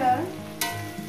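Cauliflower and potato sizzle steadily in a frying pan, close and fairly loud, with a brief sharp scrape of stirring partway through.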